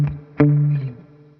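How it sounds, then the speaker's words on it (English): Clean electric guitar run through a 60s-style spring reverb on a Flint pedal: a short two-note phrase, a muted pluck and then a ringing chord that decays with a wash of reverb, played alone and close. "I've gone back to the 60s spring reverb on the Flint,"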